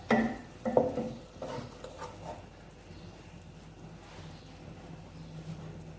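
Masala spices cooking in a pan with a little water added for a Hyderabadi khatti dal, soft sizzling and bubbling with a few stirring scrapes near the start, then a quieter steady simmer.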